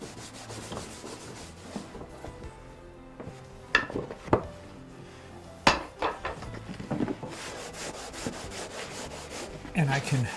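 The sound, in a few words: rubbing a fur felt hat with a pad to lift hairs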